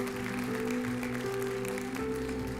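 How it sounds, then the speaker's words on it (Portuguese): Congregation applauding in a church service, a dense, even patter of clapping held under a sustained low musical drone, moderately distant and fairly quiet. "Pode aplaudir ao Senhor"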